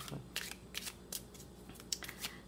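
Petit Lenormand oracle cards from the Rêves Enchantés deck being shuffled by hand for a reading: a run of quick, crisp riffling bursts in uneven rhythm, close and fairly quiet, with no talking.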